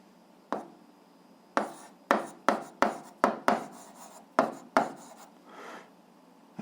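Pen or chalk strokes write out an algebra solution by hand in short, brisk bursts: about ten scratchy taps and scrapes in a quick, uneven rhythm, close and alone.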